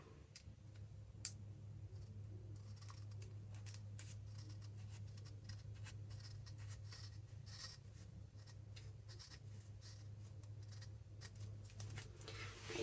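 Scissors snip book pages and an envelope for a junk journal pocket, giving faint, close, irregular clicks and crisp cuts over a low steady room hum.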